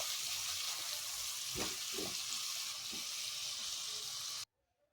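Coriander leaf chutney being stirred in a pan after the gas is switched off, giving a soft continuous sizzle with a few scraping strokes of the spoon, then cutting abruptly to near silence at the end.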